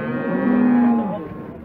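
A cow gives a single loud, drawn-out moo close by at a busy livestock market in Uchkun, the call rising and then trailing off.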